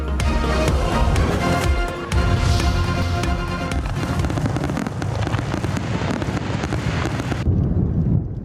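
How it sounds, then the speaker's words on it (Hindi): A New York fireworks display for the 250th US Independence Day rumbles and crackles continuously, with dense overlapping bursts and booms, loud and close. Near the end it thins to a lower rumble. No speech. "न्यूयॉर्क में आतिशबाजी का शानदार मुजाहरा, आसमान पर रंगों की बरसात"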